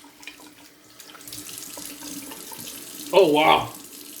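A bathroom sink tap runs cold water for rinsing the face after a straight-razor shave, a steady hiss that surges louder when hands splash through the stream; a man briefly exclaims over it.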